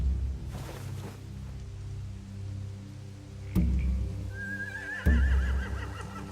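A horse in The Walking Dead: The Final Season video game whinnies with a shaky, rising neigh over a low ambient hum, punctuated by a couple of sharp thuds.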